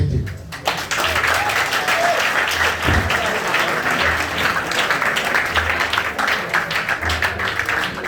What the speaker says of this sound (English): If you are clapping, you can do better.